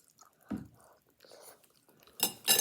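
Close, quiet bites and chewing of hot mac and cheese in short bursts separated by near silence, with faint breathy sounds between mouthfuls.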